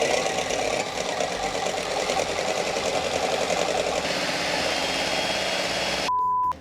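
Electric mixer whirring steadily at medium speed while beating eggs with powdered sweetener for a pistachio fluff, a dense continuous motor drone held close and loud, then cutting off abruptly near the end with a faint beep.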